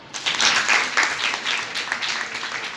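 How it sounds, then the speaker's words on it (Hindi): Students at a government girls' school in Gurugram clap together during a meditation session, a close, busy patter of applause lasting under three seconds. "तालियां बजाओ।"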